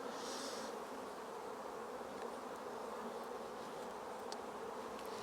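Honey bees in a 10-frame Langstroth hive buzz in a dense, steady drone, close and continuous, with no voices over it.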